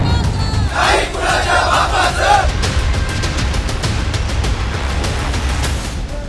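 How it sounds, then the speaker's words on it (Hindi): A large crowd of Maratha reservation demonstrators in Navi Mumbai keeps up a steady roar, with raised shouting voices near the start and continuous dense murmur throughout. "भीड़ इतनी कि घुसने की जगह न मिली"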